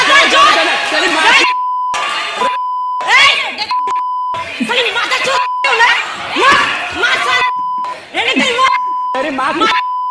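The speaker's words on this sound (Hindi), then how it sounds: "भाई इतनी गालियां मुझे बीप करना पड़ रहा है" Repeated censor bleeps, each a steady pure tone, cut over swearing in loud, excited Hindi speech from an online reaction comedy, recurring about eight times across the stretch.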